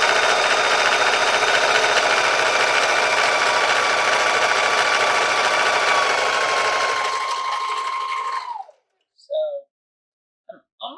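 A sewing machine stitching trim runs in a fast, even whirring rattle for about eight seconds, then stops, leaving a brief quiet followed by a voice talking nearby.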